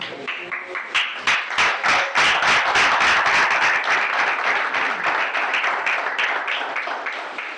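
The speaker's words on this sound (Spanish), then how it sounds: "le brindamos un aplauso a Cristo, amén" Church congregation applauding together for several seconds, a dense, steady wash of many hands clapping at close range, opening with a few scattered claps before swelling to full volume and holding.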